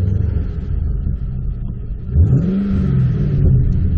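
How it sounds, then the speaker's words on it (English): A 2014 Holden Commodore engine rumbles at idle nearby, then rises in a short, sporty rev before settling back. "As you guys can hear, it does sound pretty sporty."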